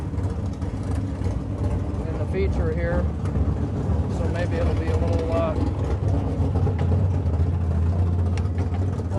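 A dirt track race car engine runs with a steady, droning hum that continues under close, continuous talking.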